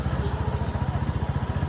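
Royal Enfield Classic 350 motorcycle engine running, a loud close single-cylinder thump beating in a steady, even rhythm throughout with no talking over it.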